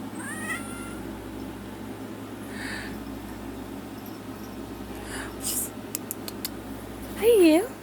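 A female cat gives several meows, including a loud rising-falling one near the end, with softer chirps earlier, close to the microphone with quiet indoor background.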